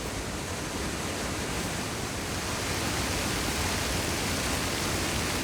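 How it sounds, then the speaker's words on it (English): Roaring wall of waterfalls in a pristine forest, one massive fall and several smaller ones pouring together as a steady, dense, unbroken rush close by, with no voices over it. "I've got a whole wall of waterfalls here, a massive waterfall over here and smaller waterfalls over here"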